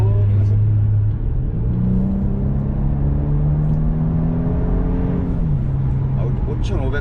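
A Genesis G70 3.3 turbo sports sedan accelerates hard from 70 km/h in sport mode, its engine note climbing steadily in a rising rumble and whir over several seconds before easing off, heard from inside the cabin.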